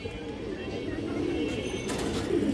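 Silver line pigeons give low, soft coos under a steady background murmur, with voices faintly present.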